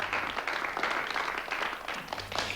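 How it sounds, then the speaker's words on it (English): A theatre audience claps together in a sustained round of applause, a dense patter of hands at moderate loudness with a low hum underneath at the start and end. "The audience clapped him."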